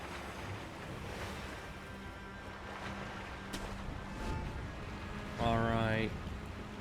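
A character wades through water in Sekiro: Shadows Die Twice, a steady washing, surf-like rush that swells slightly midway, with a short tonal cry breaking through near the end.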